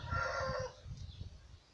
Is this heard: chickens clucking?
yes